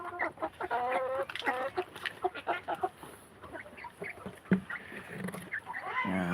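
Chickens cluck and squawk at feeding time in a backyard coop built in 2019. The close, busy chorus carries steady overlapping calls over rustling, scratching and a few knocks.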